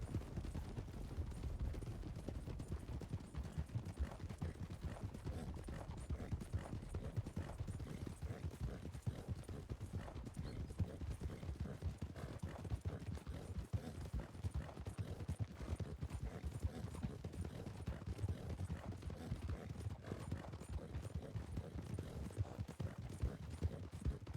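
A game horse gallops nonstop with dense, rapid hoofbeats, steady and close throughout, while a faint spoken cue occasionally breaks through.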